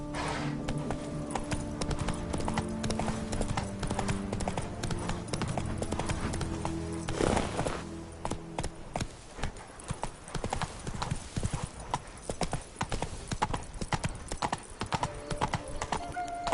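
A horse gallops in The Witcher 3 (PS5 version, Blood and Wine expansion), its hooves clip-clopping in a steady, close, loud rhythm that continues throughout with scattered sharper hoof strikes and no talk over it.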